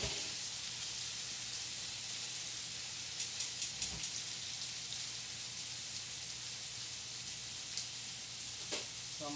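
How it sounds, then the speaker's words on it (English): Water added to a pan for fresh gluten-free pasta boils and sizzles in a steady, faint, crackling hiss, with a few soft clinks near the end. "that is boiling"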